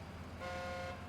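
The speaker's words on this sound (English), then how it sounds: "oh, that's a good horn. It's a loud one." A truck horn in the SnowRunner video game sounds one sustained, loud honk lasting about half a second over steady engine rumble, with no talking.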